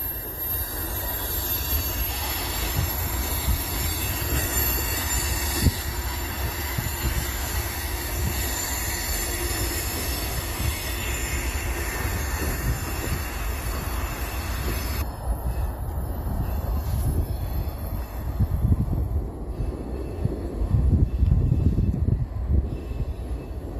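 A freight train rolls along railroad tracks nearby, a long steady rumble of wheels with high metallic squealing that drops away partway through while the low rolling noise swells, no voices.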